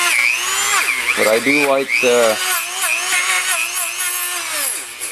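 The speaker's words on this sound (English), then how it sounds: "little Dremel tool and clean this guy up a little bit." Small Dremel rotary tool whining at high speed while cleaning a Motorcraft 2150 two-barrel carburetor, a loud, close, steady whir with shifting pitch as it bites the metal, while someone talks briefly over it.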